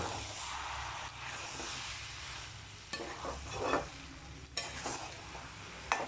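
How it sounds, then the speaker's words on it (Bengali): Grated carrot halwa with condensed milk and cardamom is stirred and fried in a pan, giving a steady close sizzle with scraping spoon strokes and a few sharper clanks toward the end. "আর দেব এলাচ গুঁড়ো সমস্ত উপকরণ খুব সুন্দরভাবে মাখামাখি করে নেব"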